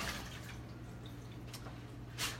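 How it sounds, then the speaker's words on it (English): Water runs and drips while a ceramic egg cooker is rinsed, a faint, steady wash with a few brief louder splashes near the end. "I'm going to just rinse this so we can do the mud cake right in here"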